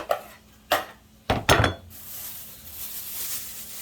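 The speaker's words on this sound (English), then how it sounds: "scrape it off into their bowl" Cooked red beans and rice scraped from a pot into a bowl: three sharp metallic clanks and scrapes close by, then a steady soft hiss.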